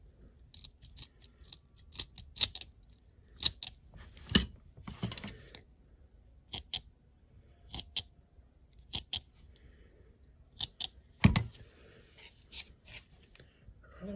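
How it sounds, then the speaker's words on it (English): Scissors snip quietly at close range, sparse crisp clicks and short cuts scattered irregularly with long quiet gaps between them, with no talking. "They're really not the best scissors."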